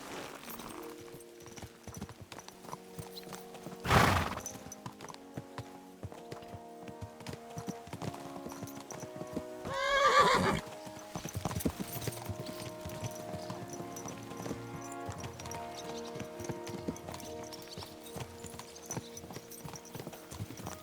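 Horses ridden in the video game Kingdom Come: Deliverance II, with steady rhythmic clip-clopping hooves throughout, two louder bursts of movement, and musical tones underneath.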